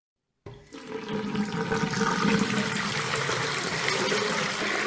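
Hot water runs steadily from a tap into a kitchen sink, starting abruptly and then flowing in a continuous, close, splashing rush.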